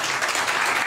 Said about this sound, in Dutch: Geef haar een applaus